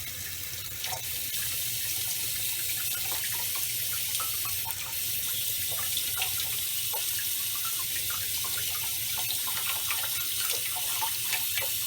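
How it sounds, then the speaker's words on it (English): A makeup brush being rinsed under a running tap, a steady close stream of water splashing into a sink throughout, with faint rubbing and dripping textures. "And then I'll take my little cleanser and then just rub back and forth. And then just rinse."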